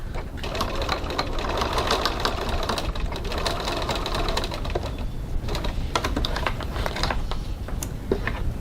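Close, continuous whirring of a sewing machine stitching a strap with a size 14 jeans needle, a steady rapid mechanical rhythm running throughout without pause.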